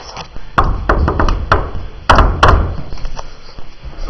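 Knocks on a door in a video game: a burst of sharp, loud raps in irregular clusters, a few thuds, then more knocks, close and dry with no talking.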